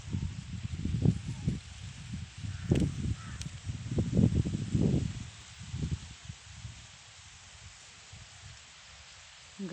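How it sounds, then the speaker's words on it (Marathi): Wind sweeping through a standing sorghum crop in a farm field, with a steady low rustling roar that swells and ebbs in gusts, a crow cawing faintly somewhere in the background. "शाळू बघा किती छान हलतोय वाऱ्याने"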